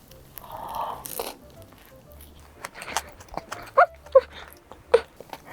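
Crunchy sweet potato brûlée pastry with a burnt sugar crust and sweet potato filling being bitten, giving several sharp, close crunches in the second half over quiet background.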